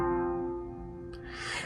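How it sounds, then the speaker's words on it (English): A sustained synth pad holds an F fifth, a steady layered chord tone with a soft swell and a brighter airy wash rising near the end, playing alone with no talk. "so I'm going to just play one pad with the F fifth."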